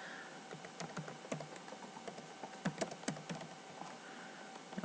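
Fingers type on a computer keyboard in an office, tapping out quiet, irregular clicks and clatters with brief pauses, heard close and alone.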